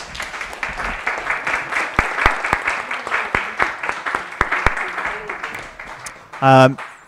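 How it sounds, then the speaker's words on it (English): A panel audience gives a round of applause at a hack night on water and social justice, steady dense clapping filling most of the stretch with a few sharper claps standing out, then a brief louder burst near the end. "So let's give our panelists a round of applause."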